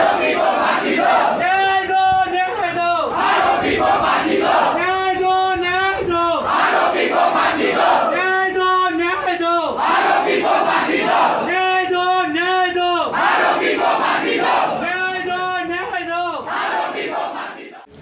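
A large crowd at a protest march chants loud slogans in unison, in repeated rhythmic bursts of many voices that keep a steady cadence from start to finish.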